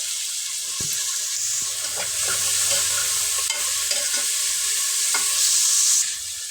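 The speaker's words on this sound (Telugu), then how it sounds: "ఆయిల్ హీట్ అయిన తర్వాత ఆనియన్ పచ్చిమిర్చి ముక్కలు ఒక టీ స్పూన్ మెంతులు కొంచెం కరివేపాకు" Sliced onions, green chillies, fenugreek seeds and curry leaves frying in hot oil for a potato stew, a continuous close sizzle with light stirring scrapes and occasional spoon taps.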